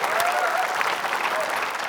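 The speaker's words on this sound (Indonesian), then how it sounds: "kasih tepuk tangan yuk." Studio audience applause during an Indonesian TV quiz game show, a steady dense wash of clapping held at an even, fairly loud level throughout, with a faint voice faintly audible underneath.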